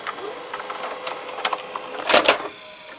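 Panasonic PV-V4521 VCR ejecting a tape: soft whirring motor with small mechanical clicks, then a louder clunking burst as the cassette comes out, close and fairly quiet.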